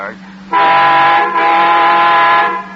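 A car horn honks in a radio drama: one long, loud, steady blare held for about two seconds, preceded by a brief quieter moment with a faint engine hum underneath.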